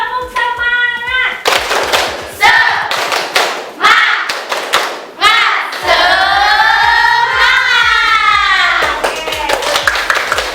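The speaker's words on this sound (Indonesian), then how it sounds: "Tepuk semangat!" A classroom group claps a rhythmic tepuk semangat ice-breaker: loud, close bursts of synchronized hand claps in patterned beats, with voices chanting and calling out between and over the claps.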